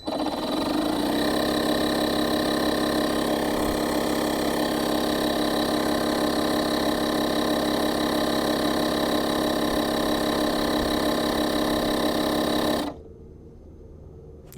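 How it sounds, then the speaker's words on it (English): A Craftsman 3-in-1 portable tire inflator runs as a loud, steady buzzing compressor drone while pumping a car tire up to 34 PSI, cutting off abruptly near the end and leaving quiet. "That would be a basic way that you could inflate your tire with this using either a battery or the 12 volt included power"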